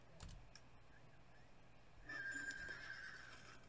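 A horse whinnies in the Star Stable video game, a faint, quiet neigh under a low steady hum, with a brief sharper cry near the start and a longer, brighter whinny in the final second and a half.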